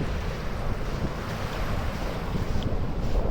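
Sea waves wash ashore at Patar Beach in Bolinao, Pangasinan, at low tide, with gusting wind across the microphone forming a loud, continuous roar and surf wash, no talking.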